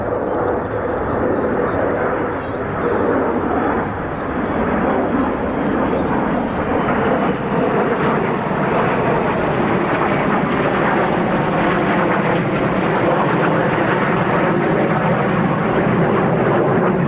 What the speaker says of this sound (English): These are F-35B Lightnings of RAF Marham